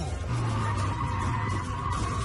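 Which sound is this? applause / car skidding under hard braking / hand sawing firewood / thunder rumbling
car skidding under hard braking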